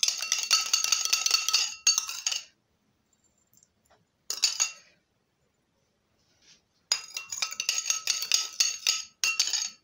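A utensil clinking against a container while two ingredients for a homemade hair remedy are mixed: rapid metallic-glassy tapping in bursts, separated by quiet pauses, close and fairly loud.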